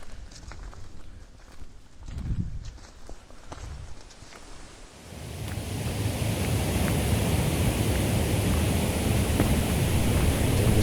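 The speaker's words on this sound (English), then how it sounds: "I hear the sound of rushing water." Water rushes steadily on a hillside in Ayrshire, Scotland, a broad continuous roar that swells up from quieter outdoor ambience with a few footsteps and then holds loud and unbroken.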